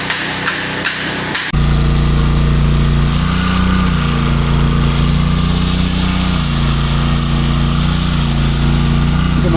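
A generator powering welding equipment and a grinder at a small farm gate build, starting abruptly and then running loud and steady close by, with a droning engine note that wavers slightly in pitch.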